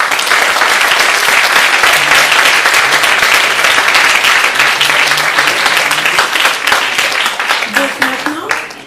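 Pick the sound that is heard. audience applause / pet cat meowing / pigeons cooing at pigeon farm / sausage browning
audience applause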